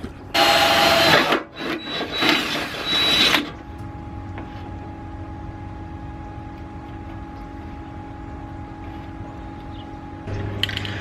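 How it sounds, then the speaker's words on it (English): A loud power drill whirs in two close bursts into a Mazda Miata's fender, stopping and starting, then a quiet low hum lingers before a faint mechanical sound at the end. "drill a hole in this area on the fender"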